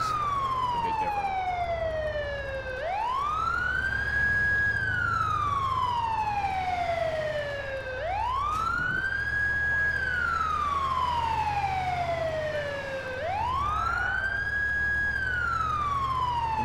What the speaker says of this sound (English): Still my favorite ambulance.